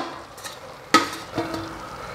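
Cooked rice and vegetables for veg biryani are stirred in a pot, giving a sharp spoon clank followed by soft scraping and shuffling, close and quiet with no talk.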